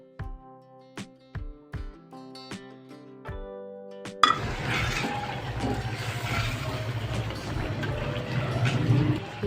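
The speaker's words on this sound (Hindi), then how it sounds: "आधा कप पानी डाल दूँगी।" Half a cup of water is poured into a pan of chicken korma after a series of sharp clinks, giving a continuous splashing pour that builds and carries on to the end.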